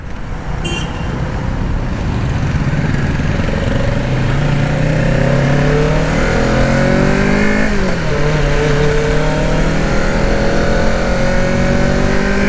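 Liter-class superbikes rev and pull away at the start of a group breakfast ride toward Airport Road, a loud dense roar with rising engine tones and passing engines blending into steady traffic noise.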